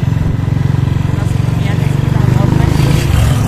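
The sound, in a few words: motorcycle riding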